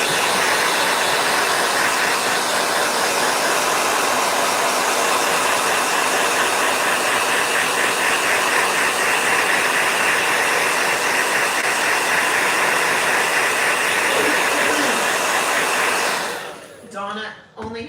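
Blow dryer running loud and steady with a constant broadband whir, then cutting off abruptly near the end.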